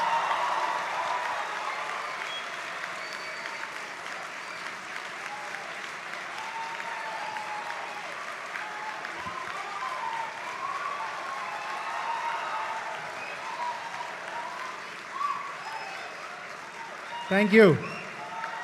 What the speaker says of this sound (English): So, please give yourself a big round of applause.